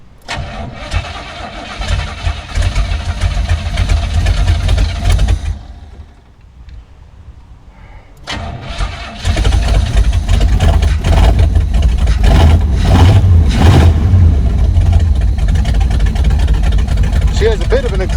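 An abandoned Buick big-block V8 with an exhaust leak cranks and fires, loud and close. Its rumble drops away briefly, then it catches and settles into a steady, heavy idle, with a voice talking over it.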